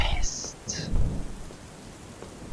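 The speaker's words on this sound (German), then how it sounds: "Ich hasse dieses Gewitter wie die Pest." Thunderstorm with rain in the Slender Mansion horror game: steady rain hiss with low rumbling thunder swells, fairly close and loud, no talking over it.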